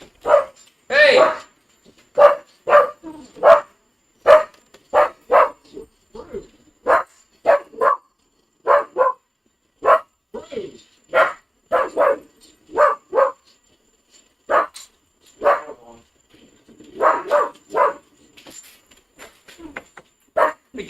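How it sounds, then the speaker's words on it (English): A dog barks repeatedly nearby in irregular bursts of sharp woofs and yips, mixed with a person's raised voice calling out between the barks. "What are you barking at?"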